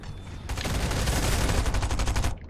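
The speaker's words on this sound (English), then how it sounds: "One of them's got a charge SMG. Gonna use it at me." Rapid automatic gunfire from a charge SMG in Fortnite, a dense, loud burst of repeated shots lasting about two seconds with no talking.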